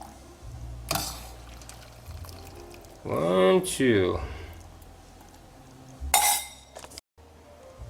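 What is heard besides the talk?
scooping spaghetti beef soup out of the pot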